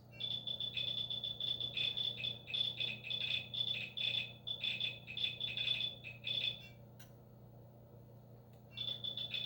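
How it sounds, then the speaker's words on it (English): Rapid high-pitched rattling chirps in dense bursts, a busy clicking texture that briefly cuts out before resuming. "If we could hear the molecules bouncing, colliding, perhaps it would sound like this."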